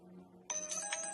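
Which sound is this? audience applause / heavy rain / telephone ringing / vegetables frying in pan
telephone ringing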